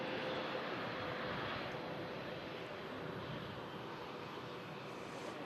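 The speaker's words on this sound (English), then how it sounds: "Lufthansa A321 just touched down as well, coming in from Munich." A Lufthansa Airbus A321 arriving from Munich roars steadily through touchdown and rollout, a broad, loud jet rush that fades slightly toward the end.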